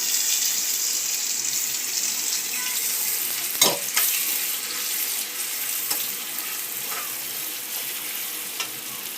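Tomatoes frying and being stirred in a pan for a stuffed brinjal (bharli vangi) curry: a steady close sizzle with a few soft clinks and scrapes of stirring.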